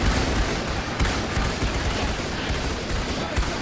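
Dense, continuous crackling musket volleys from British line infantry in Ultimate Epic Battle Simulator, loud overlapping shots with heavier booms mixed in, a steady battle roar throughout.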